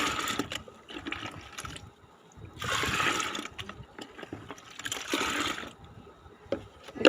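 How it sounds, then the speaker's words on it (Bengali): Liquid plant tonic is stirred with a mug in a bucket of water, giving intermittent sloshing and splashing bursts of moderate loudness with quieter pauses between them. "ঢেলে এবার মগ দিয়ে এটাকে মিশিয়ে নেব।"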